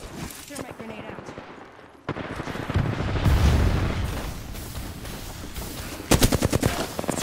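Rapid gunfire bursts and a heavy grenade-like boom in the Apex Legends video game, with loud clustered shots at the start and dense rumbling blasts after, ending in more quick shots.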